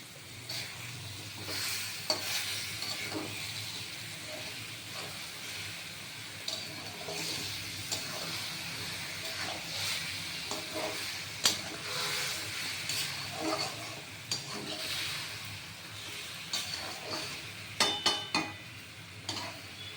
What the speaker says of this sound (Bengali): এটা একটু ফুটবে দেখুন বন্ধুরা এই ফুটছে